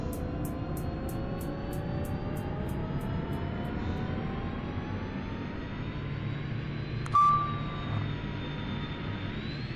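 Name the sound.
Pilatus PC-12 aircraft engine in X-Plane 12 video game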